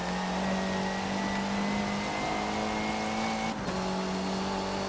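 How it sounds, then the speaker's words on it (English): Touring car in Forza Motorsport 7 with a steady, loud engine drone and a brief dip where the driver brakes hard and downshifts, then the engine resumes, no talk. "Just hit the brake very hard to the second gear."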